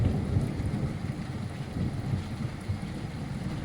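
Steady heavy rain pours down during an active thunderstorm with hail over Anstey, low rumbling thunder rolling continuously beneath the downpour, with no voices.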